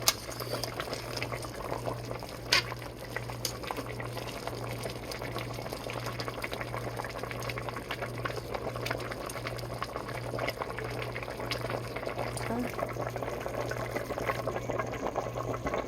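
Zuppa Toscana soup with potatoes boiling steadily in a pot, a continuous close bubbling and simmering with a low steady hum beneath, no talking.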